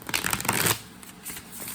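A deck of tarot cards is shuffled by hand, a quick flurry of crisp, riffling flaps for under a second, then softer scattered card rustles, close and alone.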